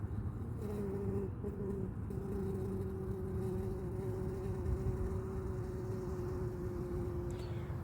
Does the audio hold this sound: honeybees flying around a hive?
yes